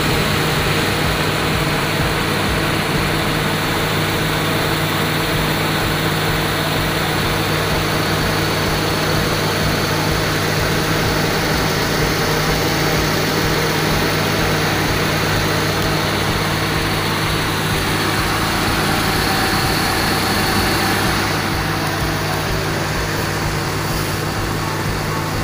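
A Timor car's engine idles smoothly around 900 to 1000 RPM, a steady, even low hum close by with no revving and no voices.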